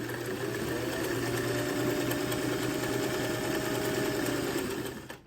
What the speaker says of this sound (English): We're just going to chain sew off of one right onto the other.